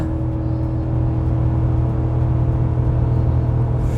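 A Ford F150 pickup with a 5L Coyote V8 pulls a trailer under load, its engine holding a steady, loud droning rumble with a constant tone and no pauses.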